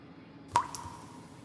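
A single small drop of liquid lands with a soft plop on the threads of a rear Dana 44 axle from a 1997 Jeep Wrangler, close and faint in a quiet space.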